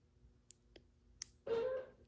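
Nissan 370Z key fob button gives a few quiet, sharp clicks in a near-silent space, followed by a short louder whirring burst.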